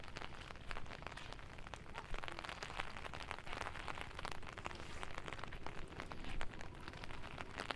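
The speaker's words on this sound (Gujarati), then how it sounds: "વરસાદ તો ચાલુ જ છે." Rain falls steadily on foggy hills at the Garud Gufa hill station, known as Mini Saputara, a faint, even patter of drops lasting throughout with no voices present.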